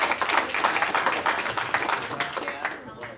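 Audience applause for speaker Robby Amaro at an internet marketing meetup, a dense patter of many hands clapping steadily for about three seconds before thinning slightly at the end.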